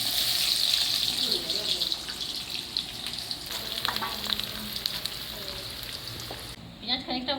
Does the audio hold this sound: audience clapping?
no